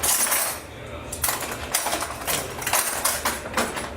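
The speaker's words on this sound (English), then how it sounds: "Here's some apple peeler. And I just peel the skin up." Apples being peeled with a handheld apple peeler in a home kitchen, giving repeated scraping, clinking strokes at close range with metallic ticks and a steady rough hiss.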